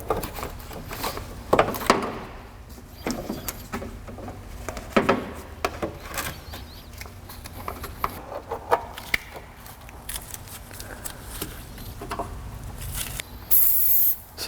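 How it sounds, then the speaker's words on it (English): Short bursts of silicone lubricant spray hiss intermittently amid clicks and handling noises during Honda Civic D-series timing belt work, with a longer spray burst near the end. "Silicone spray."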